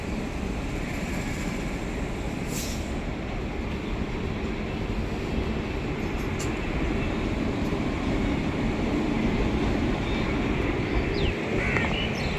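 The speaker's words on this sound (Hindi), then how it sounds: "अमृत भारत एक्सप्रेस ले रही है खूबसूरत कर्व।" The Amrit Bharat Express rolls around a curve in a continuous, loud rumble of wheels and carriages, heard from on board, with faint squeals and clanks over the steady roar.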